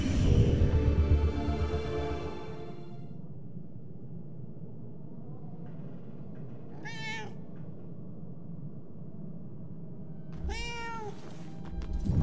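A cat meows twice in Murdered: Soul Suspect, short distinct calls a few seconds apart over a low ambient hum after a loud opening noise fades.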